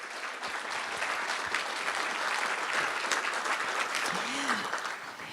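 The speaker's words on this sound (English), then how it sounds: "I hope that you all would give them a big round of applause" An audience at an award event claps steadily, a broad, evenly sustained wash of applause from many people, with a few voices and cheers mixed in beneath the clapping throughout.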